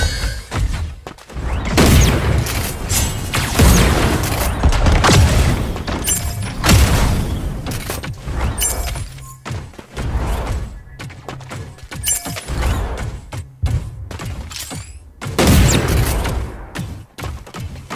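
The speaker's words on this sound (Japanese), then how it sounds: "銃声が聞こえた。" Rapid bursts of gunfire in the video game Super Mecha Champions, with loud booms and shattering crashes, dense and continuous over a musical soundtrack.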